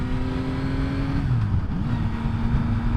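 Yamaha MT-09 motorcycle, 2021 model, pulls hard under acceleration, its engine note holding a steady loud tone that dips briefly mid-run then climbs again, up close and continuous with no talk.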